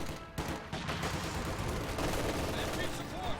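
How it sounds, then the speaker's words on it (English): Video game gunfire with an MG42 machine gun under fire from PTRS anti-tank rifles, rendered as a dense, loud barrage of overlapping shots and blasts throughout. "MG42 probably also going to have to retreat, getting sniped by the PTRSs hard."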